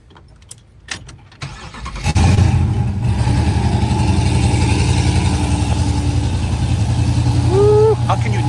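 Muscle car engine cranking after a few clicks and bumps, then catching into a loud, deep, lumpy idle that rumbles steadily and close, with a brief rising squeal near the end.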